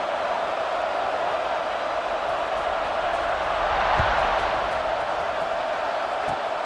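Steady stadium crowd roar at kickoff in a college football video game, Syracuse versus Georgia Tech, a broad sustained cheer holding at even loudness with a faint thump partway through.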